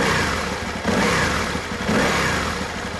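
Aprilia RSV Tuono R Factory motorcycle engine, a high-revving sportbike twin, blips and revs in two swells over a steady loud roar, close by with no talking.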